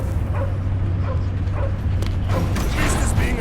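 In the Guardians of the Galaxy video game, the dog Cosmo gives several short yips and barks over a dense, loud game soundscape with a low steady hum.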